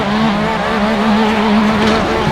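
Simulated race car in Assetto Corsa at speed with traction control active, a steady loud engine drone with a sustained tonal whine and faint tire noise, continuous and close throughout.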